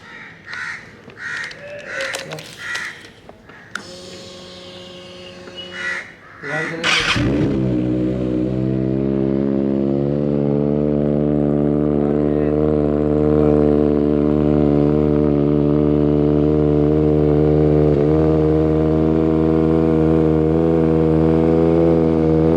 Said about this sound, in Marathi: गाडी आता कोल्ड स्टार्ट करतो.